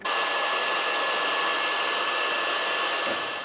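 A heat gun blows steadily on the dead-flat lacquer finish of a Stratocaster guitar, a loud, even hot-air whoosh that starts at once and runs without a break, with no voices.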